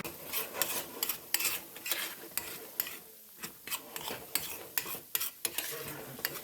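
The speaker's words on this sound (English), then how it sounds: "Let's get our eggs all scrambled up and we'll be good to go." Eggs scrambled in a pan, soft repeated scraping and stirring strokes in an irregular rhythm over a faint sizzle, close but quiet with no voices.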